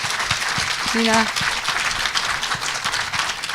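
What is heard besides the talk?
audience applause for a film director at IDFA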